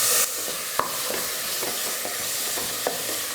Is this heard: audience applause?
no